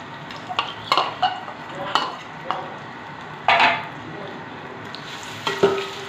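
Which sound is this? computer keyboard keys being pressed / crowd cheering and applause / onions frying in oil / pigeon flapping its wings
onions frying in oil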